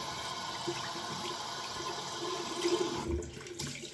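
A flannel is rinsed under a running tap in a household sink, a steady close hiss of flowing water with brief splashing and squelching as the cloth is worked under the stream.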